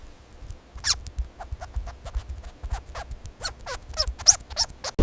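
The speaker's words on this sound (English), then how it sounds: "It's a mouse." A mouse gives a quick series of thin, high squeaks mixed with light scratching and rustling, close by and fairly faint, in an uneven scattered rhythm.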